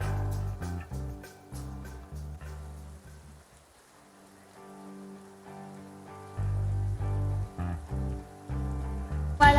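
Heavy rain pours steadily nearby and at moderate loudness, with a dense hiss and patter that keeps going through a brief lull and then builds again.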